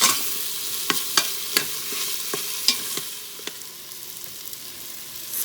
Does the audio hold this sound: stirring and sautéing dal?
yes